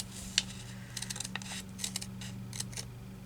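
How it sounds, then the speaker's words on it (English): Big scissors cutting paper for a doll-themed journal craft, a quick series of crisp snipping and rustling clicks close up, irregular and fairly quiet, with no talking. "I'm trying to do something like this with these big scissors or blunt other ones"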